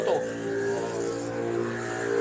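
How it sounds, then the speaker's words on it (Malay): A motorcycle engine runs on a street at night, a steady mid-pitched drone with slight revving that holds throughout at moderate distance. "Ini motor."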